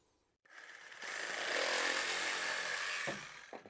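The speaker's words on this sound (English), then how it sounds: "Let's use the old-fashioned Sawzall here." A Sawzall reciprocating saw cuts through a bathtub drain pipe, starting abruptly and running as a loud, steady buzzing rasp for about two and a half seconds before stopping, with a few light knocks after.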